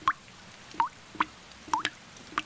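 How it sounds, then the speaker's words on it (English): Cartoon rain dripping onto a hat: five separate bright, plinking drops land in an uneven rhythm, each short and clear over a quiet background. "I can hear the rain drip-dropping on my hat."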